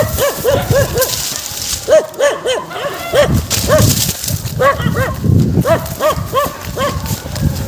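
A dog barks over and over outdoors during a rescue, in quick runs of loud, close yelps with short pauses between the runs.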